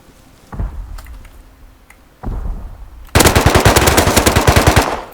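Gunfire in the survival video game Rust: a couple of isolated heavy shots, then a loud, rapid automatic burst of evenly spaced close shots lasting about two seconds.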